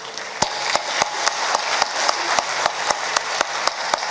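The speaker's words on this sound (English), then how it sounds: "Let's all give each other a round of applause, all those of you who come from different areas." Audience at an official presentation ceremony claps, a dense close burst of applause with a few individual sharp claps standing out in a steady rhythm.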